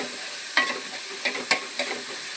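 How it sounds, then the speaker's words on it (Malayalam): Ginger, green chili and tomato are sautéed in a pan. A soft, steady sizzle runs throughout, broken by a few sharp scrapes and stirs of a spoon against the pan. Close, with no voices. "ഇഞ്ചി പച്ചമുളക് ഇട്ട് കൊടുക്കാം കേട്ടോ നന്നായിട്ട് വഴറ്റിയെടുക്കുക തക്കാളി ഇട്ട് കൊടുക്കുക കേട്ടോ നന്നായി വഴറ്റിയെടുക്കാം"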